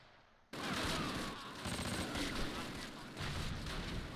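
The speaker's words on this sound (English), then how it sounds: "Artillery is coming in strong." Artillery and gunfire in the Close Combat wartime strategy game, a dense, continuous barrage of blasts and shots that bursts in loudly after a brief quiet start and rumbles on without letup.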